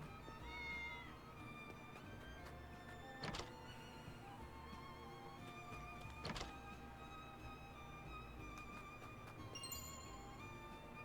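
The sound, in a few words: cat meowing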